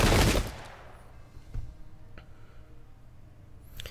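Redcoat musket volley in an American Revolution video game battle at Brandywine Creek: a loud, dense crackle of massed shots opening the moment, followed by a few scattered distant reports and a lingering rumble.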